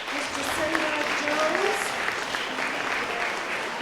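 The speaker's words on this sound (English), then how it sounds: "give a nice round of applause to our caterers" A room full of guests at an evening scholars reception applauds the caterers, steady continuous clapping from a sizable crowd with faint voices mixed underneath throughout.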